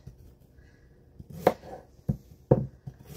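A knife chops onions and carrot on a board with a few sharp, separate knocks spaced irregularly, close and fairly quiet, with soft handling noise between them.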